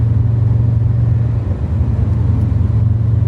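Subaru Impreza WRX Classic engine giving a steady, loud low rumble, idling or cruising with a brief dip midway.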